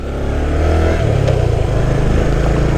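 A Yamaha GP1 motorcycle engine revs up loud and close, the note rising over the first second and then holding a steady rasping drone, with no talking.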